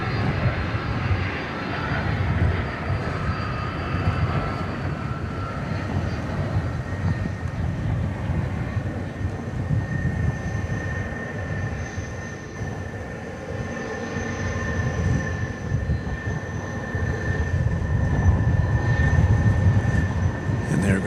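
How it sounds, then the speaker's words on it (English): An Airbus A300 taxis toward its takeoff spot on runway 18 left at DFW Airport at night, its engines giving a steady, loud roar with a high whine that builds slightly toward the end. "Goes the A300 off to its takeoff spot on 18 left"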